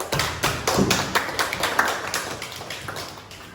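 A classroom audience claps hands at a school event, a spell of sharp, fairly close claps with an uneven rhythm that thins and fades toward the end.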